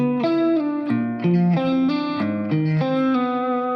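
A distorted electric guitar plays a quick melodic riff with effects, notes changing rapidly with pinky hammer-ons, bright sustained tones with light chorus and reverb, close and loud with no voices.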